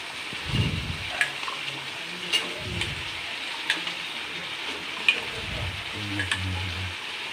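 Taro stolons fry in a pan with chilli powder, making a steady hissing sizzle broken by several low knocks and clatters as they are stirred, close and moderately loud, with no talk.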